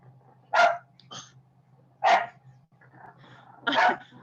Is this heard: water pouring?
no